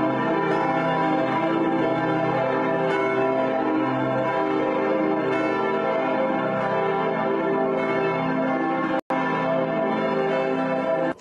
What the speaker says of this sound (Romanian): se fac probe de sunet pentru cele 6 clopote gigantice